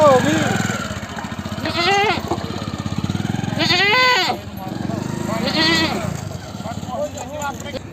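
Goats bleating at the Faridkot goat market: loud, wavering bleats close by, repeated three times, over a busy background of people talking and faint engine hum.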